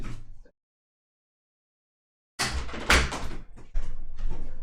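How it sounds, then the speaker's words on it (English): A door being shut during a lecture: after a silent pause comes a close burst of clattering, rattling handling noise that runs on for a couple of seconds. "I'm just gonna close the door."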